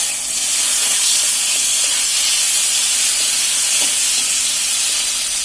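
Tomatoes dropped into a hot pan while cooking a cabbage bhorta give off a steady, loud sizzling hiss that holds evenly throughout, with no talking.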